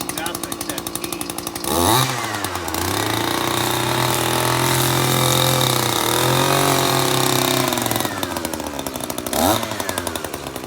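An Echo 3020T top-handle chainsaw with gear reduction runs in a junkyard, buzzing at a loud idle and rising into several sustained high-revving cuts before dropping back to idle, with brief speech alongside.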